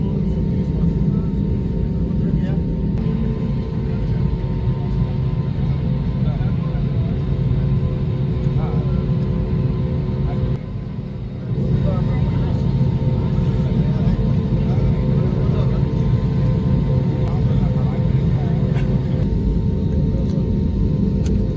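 An airplane taxies toward the runway before takeoff, its engines giving a steady, close, low rumble inside the cabin that dips briefly partway through and then resumes as before.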